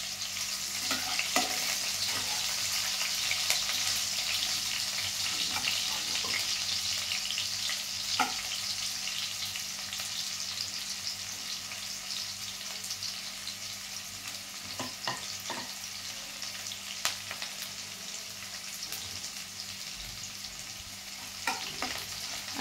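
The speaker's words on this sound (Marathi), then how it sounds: "कांदा व्यवस्थित परतून घेऊया." Chopped onion sautéing in a pan for egg and pea masala, a steady close sizzle with occasional sharp stirring scrapes throughout, no voices.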